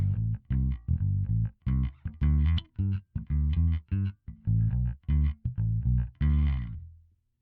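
A six-string bass plays a steady run of plucked low notes in a clean tone, each note distinct, ending on a held note that fades out.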